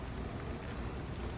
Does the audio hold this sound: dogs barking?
no